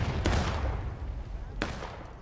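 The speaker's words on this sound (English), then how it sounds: "Fourth New Jersey, we're firing by files from right to left." Musket fire from a Union line in the Civil War game War of Rights, firing by files: two sharp, loud reports about a second and a half apart over a low rumbling battlefield background.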